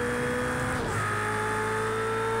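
A race car riding over the kerbs in Project CARS 2, a steady engine drone with a brief rattling thump as it crosses the kerb, then a continued high engine tone, close and alone.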